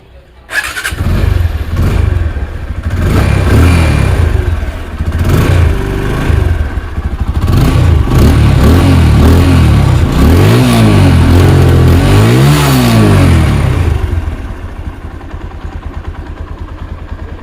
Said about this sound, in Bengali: যদি দেখায় আপনাদেরকে বাইকটির সাউন্ড কন্ডিশন